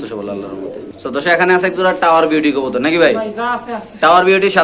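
Pigeons coo close by at a pigeon market while someone talks loudly over them, with repeated throaty cooing calls running beneath and between his speech.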